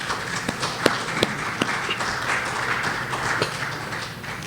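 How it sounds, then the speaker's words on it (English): Audience applause at an agricultural institute's anniversary seminar, a steady wash of many hands clapping with a few sharper claps standing out, fairly close and continuing throughout. "Let us give our allied institutions a round of applause."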